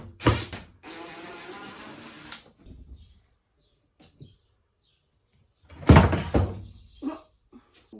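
Wooden clunks and creaks of a camper's upper cabinet door being worked loose, with a few sharp knocks and a short scraping rattle between quiet pauses.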